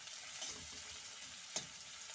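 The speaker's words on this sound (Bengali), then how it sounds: "আমার গাজর আর ক্যাপসিকাম সবই ভাজা হয়ে গেছে" Carrots and capsicum fry in a pan for pasta, giving a steady, soft sizzle with a single brief clatter of stirring partway through, and no voices.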